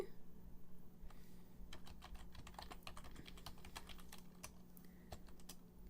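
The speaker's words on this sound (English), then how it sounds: "So I'm going to start typing." Rapid clicking of fingers typing on a computer keyboard during a live tarot reading, bursts of close, crisp keystrokes over a steady low electrical hum.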